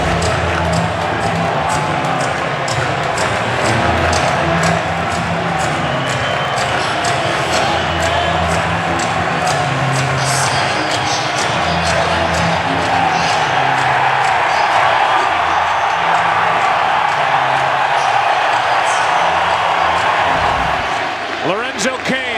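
A packed baseball stadium crowd at the 2015 World Series, Royals against Mets in Game 5, roars steadily in support of pitcher Matt Harvey, a dense, continuous wall of cheering under a talking voice.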